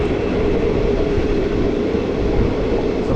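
A Kacheguda to Medak passenger train behind a WAG-9 locomotive rounds a curve, producing a constant loud rolling rumble from close by, with no talk over it.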